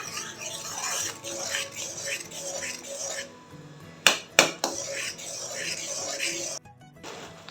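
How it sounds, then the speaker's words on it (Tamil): Mango jam with sugar stirred in a pan, a spoon scraping and knocking against the metal in a steady rhythm, with two sharp loud clanks midway, close and fairly quiet overall. "நல்லா கலந்து விட்டுட்டே இருங்க"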